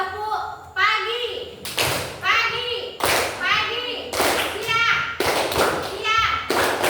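Children clap in sharp bursts in a classroom icebreaker game led by a teacher, the rhythmic volleys alternating with the teacher's voice and the kids' chanted replies.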